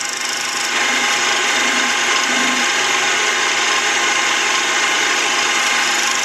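A milling machine cuts a slot wider in a .22 LR shell holder, giving a loud, constant grinding whir that stays steady from start to finish with no speech.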